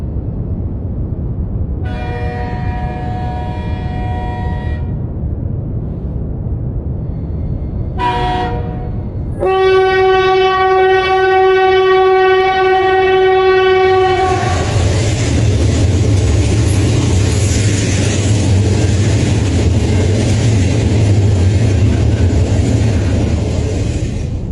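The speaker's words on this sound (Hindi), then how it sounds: "तभी अचानक दूर से ट्रेन की तेज आवाज सुनाई देने लगी।" A train approaches at full speed, sounding two short horn blasts and then a long, loud horn before it thunders past close by with a heavy roar of wheels and cars.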